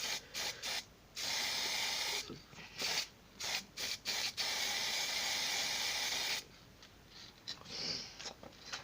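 Spray paint hissing from an aerosol can onto a buggy wheel, held about 30 cm away, in a run of short bursts followed by one long sustained spray, fairly close and alone.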